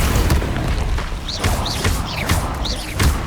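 A spell burst from Hogwarts Legacy, Expelliarmus, fires in repeated loud whooshing booms with bright rising zips, several sharp impacts spaced across a few seconds over a dense rumbling game mix.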